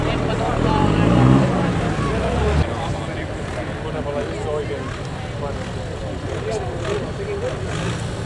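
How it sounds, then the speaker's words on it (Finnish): A Ford tractor revs hard in a standard 3,500 kg tractor pulling class at an outdoor competition, giving a loud, sustained engine roar with wind buffeting while an announcer talks over it. "Siellä kierrokset nousee Timon Fortsonissa."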